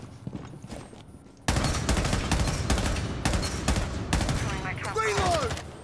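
Rapid gunfire in Rainbow Six Siege as players shoot out Gridlock's deployed gadgets, loud dense bursts of shots after a quieter opening, with game effects mixed in.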